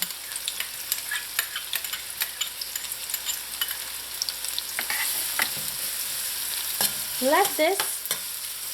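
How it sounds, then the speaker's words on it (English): Onions and garlic sauté in hot oil for Trinidad fried aloo, a steady sizzle with repeated spoon scrapes and stirring clicks against the pan, close and fairly loud, with brief speech near the start. "just saute a little until the onion starts to turn like light brown in color"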